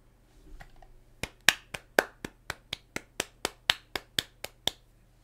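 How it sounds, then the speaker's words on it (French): A lone person claps for himself, about fifteen sharp, evenly spaced claps following a soft rustle, close and clear with no talk. "Je vais m'applaudir, je vais m'applaudir."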